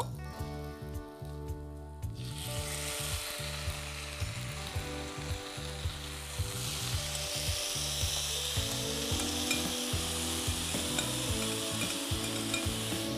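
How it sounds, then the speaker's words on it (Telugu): Fish sizzles steadily on a hot griller, with red capsicum stir-frying nearby, as a loud continuous frying hiss is punctuated by repeated scraping and tapping of a utensil against the pan. "ఫిష్ని వేసి చక్కగా గ్రిల్ అవ్వనిద్దాం"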